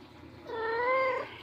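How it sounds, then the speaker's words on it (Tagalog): A kitten, one of two in a household litter, gives a single drawn-out meow, close and clear against a quiet background. "Si Kitty, may dalawang kuting."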